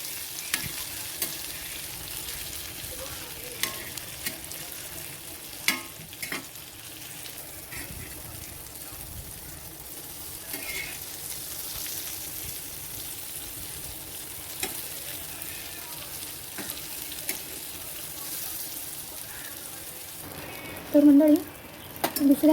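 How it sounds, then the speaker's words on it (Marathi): Karli fish fry in a generous amount of oil in a pan and are stirred as they cook. A soft, continuous sizzle runs under occasional scraping stirs, with a louder clatter near the end. "हे सगळे परतून घेऊया मला तेल जास्त जरा सोडावं लागतं करलीला"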